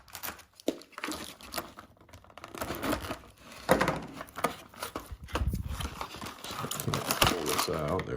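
Tape is cut and a miniature figure is pulled out of its plastic packaging, making close crinkling, tearing and rustling sounds in irregular bursts, with someone speaking over parts of it.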